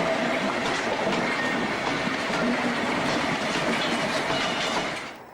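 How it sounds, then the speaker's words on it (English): The final coal train leaving Silverdale Colliery in 1998 rumbles past, a steady, dense roar of wagons with faint clickety-clack from the wheels that fades slightly at the end. "This bit of film is actually from the very last train ever to leave Silverdale Colliery in 1998."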